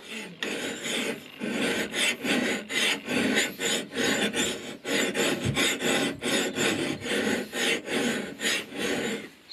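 Hand file draw-filed back and forth across the bevel of an Elwell axe head, a steady rasping rhythm of about twenty close, loud strokes with brief pauses between them.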